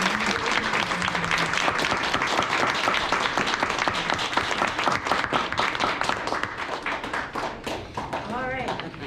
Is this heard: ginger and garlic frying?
no